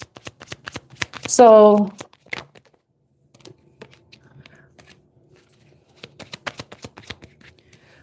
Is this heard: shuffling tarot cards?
yes